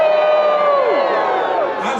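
A large festival audience at a Victorian-themed Dickens holiday event in Fayetteville, North Carolina, lets out a loud, continuous cheer mixed with whoops and yells, holding steady for a couple of seconds before tapering off.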